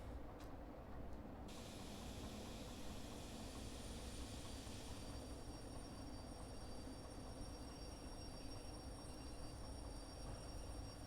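Train cars roll along the track in Derail Valley, a steady, quiet rumble of wheels with a faint high whine, continuous and unbroken with no voices.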